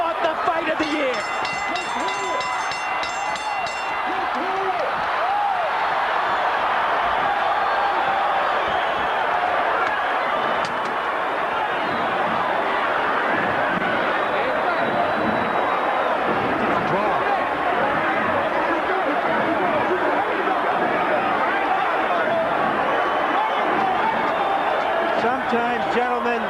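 A boxing arena crowd cheers and roars loudly and steadily after the Evander Holyfield vs Riddick Bowe rematch, a dense wash of shouting and whooping that keeps going without a break.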